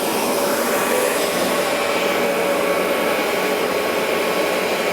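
A Bissell carpet cleaner runs over carpet with a loud, unbroken motor drone and hiss that stays level throughout.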